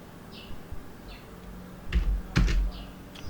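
Keys on a computer keyboard clack in a few quick, scattered taps while working in Word 2007, close and fairly quiet, with no voices.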